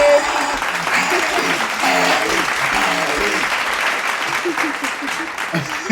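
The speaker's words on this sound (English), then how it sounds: "And the crowd goes crazy." An audience breaks into loud, sustained applause and cheering throughout, a continuous wash of clapping with crowd voices mixed in.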